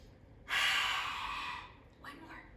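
Children in a kids' yoga class blow out a forceful, breathy fire-breath exhale with tongues out, a loud rush of air that fades, followed by a softer second puff.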